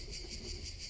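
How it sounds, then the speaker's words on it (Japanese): Cicadas droning in the horror video game The Ghost Train, a steady pulsing high-pitched buzz with regular swells, continuous and alone at a quiet level. "セミの声うるさくって聞こえねえじゃねえかこれ"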